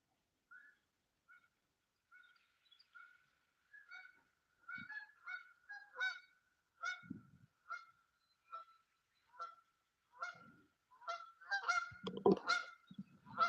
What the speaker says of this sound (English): some goose hailing. They flying.